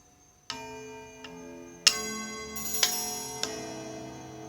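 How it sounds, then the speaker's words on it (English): An old mechanical clock chiming: several bright metallic strikes, each ringing out with a long sustained decay that overlaps the next, heard close and alone. "this is the chime from an old mechanical clock"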